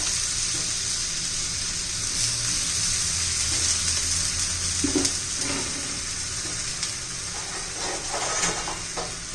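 Methi kothimbir thalipeeth, a flatbread of fenugreek and coriander, roasts in oil on a hot pan with a steady, close frying sizzle. A few faint pops and crackles rise over the sizzle, and no one speaks.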